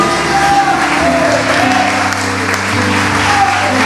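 A church congregation applauds together during a night service, steady dense clapping filling the room, with music or tonal sounds carrying underneath and no clear speech over it.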